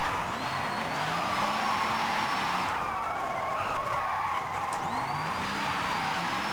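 An all-wheel-drive car on Linglong tires slides sideways in long drifts, its tires squealing in sustained, wavering howls over a steady engine drone, with a brief dip in the middle before the squeal resumes.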